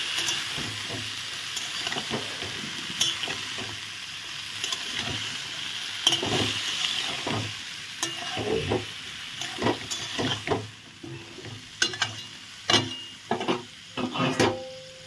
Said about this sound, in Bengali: ডোগা দিয়ে একটু ভাজা ভাজা করবো